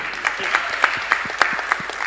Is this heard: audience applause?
yes